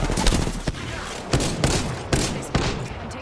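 Rapid gunfire bursts in the Apex Legends battle royale game, with several sharp loud shots standing out over a dense continuous crackle of weapon fire, and a voice briefly audible in the mix.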